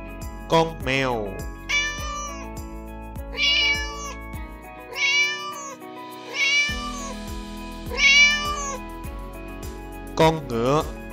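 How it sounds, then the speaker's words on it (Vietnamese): A cat meows repeatedly, long drawn-out mews spaced every second or two, close and clear over soft background music. "Con mèo."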